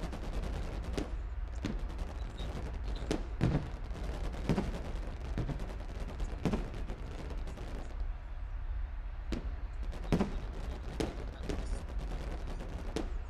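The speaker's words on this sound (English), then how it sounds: "it only does the same fireworks in the same spots" Fireworks in a fishing video game go off again and again at the same spots, making sharp, distant-sounding bangs at irregular intervals over a steady, rumbling background.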